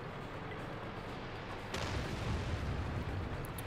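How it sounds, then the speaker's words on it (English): A single heavy artillery boom erupts in a World of Tanks battle, a sudden broad blast that lingers as rumbling noise over steady game background, with no voices. "Some artillery, some more artillery fire."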